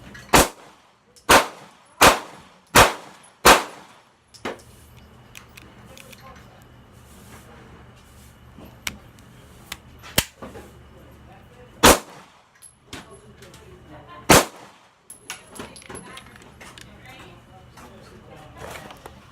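Taurus G2S pistol firing Armscore rounds at an outdoor range: five sharp, loud shots in quick succession, then three more spaced apart, with faint background rumble between them.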